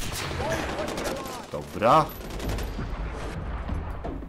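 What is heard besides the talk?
gunfire in the video game Far Cry 4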